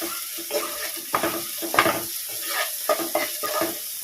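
Ground spices such as coriander, chili and turmeric sauté in a pan for an okra milk curry, with a soft sizzle under repeated scraping stirs and light clinks of a spoon, close and clear.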